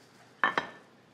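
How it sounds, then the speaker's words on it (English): Penang asam laksa soup stirred in a pot, with two quick metallic clinks of a utensil against the pot close together, fairly faint over a quiet background. "Then I'm going to stir it through."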